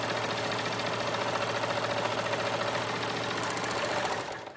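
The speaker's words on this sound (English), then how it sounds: "I'm going to sew across the bottom" A sewing machine stitches across the bottom of a child's bathrobe, running as a steady, close mechanical whir with a fast rhythmic needle beat before it slows and stops near the end.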